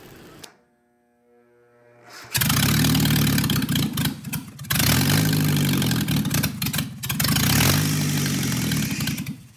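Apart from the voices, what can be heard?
Nissan Datsun 720 engine running with stock exhaust manifold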